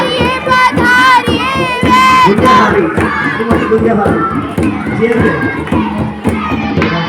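A crowd of children shouts and cheers at a school camp closing and prize-giving ceremony, with loud bursts of excited voices and clapping, and an adult voice speaking briefly over the noise.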